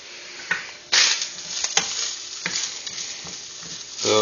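Mushrooms fry in a pan beside a breakfast muffin preparation, giving a close, continuous sizzle punctuated by stirring scrapes and a few louder bursts, with no voices.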